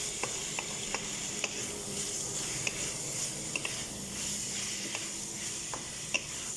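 Food sizzling and frying in a pan for an Egyptian spinach beef stew, a steady close hiss broken by clinks and scrapes of stirring, with no talking.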